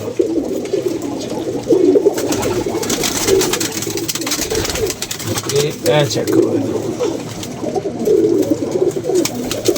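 Pigeons cooing close by in a repeated, low, rolling rhythm, while people talk over them throughout.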